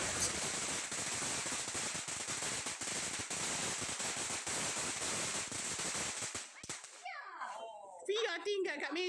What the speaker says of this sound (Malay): tapi mercun bunga api on dah